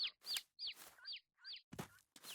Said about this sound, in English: There's our little chicks.